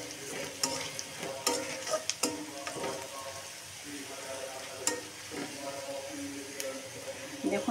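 Onions browning in a pan with cinnamon, green and black cardamom, bay leaf and cumin seeds, for a broiler chicken curry: a steady sizzle broken by repeated scraping stirs and sharp clinks of a spoon against the pan.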